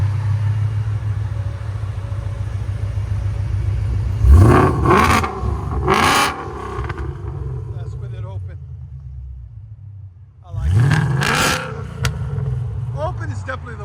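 A 770hp supercharged Ford Mustang GT 5.0L V8 idles with a steady low burble outdoors, then bursts into several sharp, loud revs heard from the front at a distance, with a quieter rumble between.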